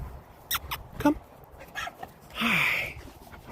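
A dog at a small park gives a few short whimpers and yips, then a longer whining cry, fairly close, with a person speaking softly between the sounds.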